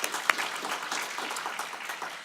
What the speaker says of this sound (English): If we could all welcome them by giving them a round of applause.